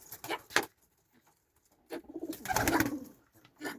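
Soft low cooing from sick pigeons in a few short bursts with quiet gaps between, close by and fairly faint.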